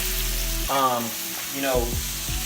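Butter melts and sizzles in a pan before shrimp is added, a close, steady frying hiss with brief rising swells.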